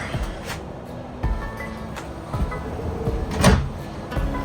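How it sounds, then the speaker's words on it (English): A pull-out drawer in a 2026 Airstream Stetson 27FB travel trailer slides and bumps shut several times at close range, with soft rolling and knocking sounds and no talking. "You've got a pull-out drawer."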